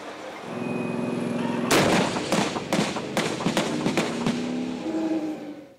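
Japan Self-Defense Forces fire artillery in a live-fire exercise at Gotemba, with a rapid series of loud, echoing booms over a steady outdoor rumble.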